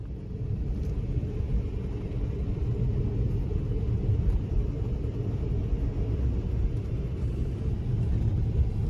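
Steady low rumble of a car driving on a road near the Turkish border while travelling from Bulgaria, a continuous engine and tyre drone with no talk.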